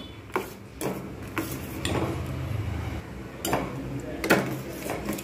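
A spoon scrapes and clinks against a pot of Bengali Gobindobhog rice payesh over low heat, giving irregular metallic knocks and taps over a steady background hiss.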